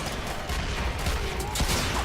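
Gunfire in the video game Warframe, a dense, continuous fusillade of rapid shots with ricochets. It is loud and close throughout and carries a faint voice beneath it.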